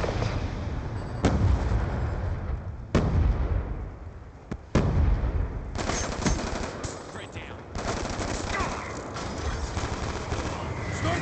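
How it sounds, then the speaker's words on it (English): Hellstorm missile strikes in Black Ops 2 multiplayer, a run of loud booming explosions and broadband blasts with sharp onsets at irregular intervals, heavy and close, with crackling gunfire-like bursts between the impacts. "Friendly Hellstorm missile inbound."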